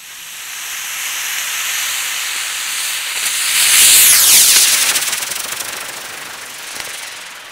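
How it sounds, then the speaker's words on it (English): A rocket engine builds thrust before liftoff, a loud, broad roaring hiss that swells over several seconds, peaks, then eases slightly while still roaring, heard from a short distance with no talk. "It'll take it 7-8 seconds to generate enough thrust to take off here."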